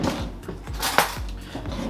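A knife splits a butternut squash in half on a cutting board, with a few soft, dull thunks and one sharper knock in the middle, quiet and close with no voices.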